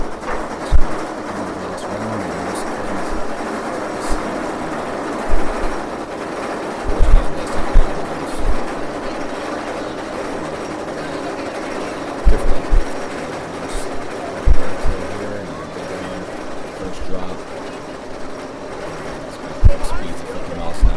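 Twisted Cyclone roller coaster train climbing the lift hill at a park's coastal section, a steady rumbling rail clatter with intermittent clicks, heard at a distance under crowd and talking voices.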